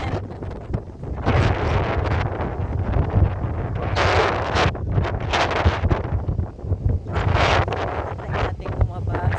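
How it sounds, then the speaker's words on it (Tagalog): Strong wind after a typhoon near a fish pond, buffeting the microphone in heavy gusty bursts that roar louder and ease off repeatedly, loud and close throughout. "Napakalakas ng hangin."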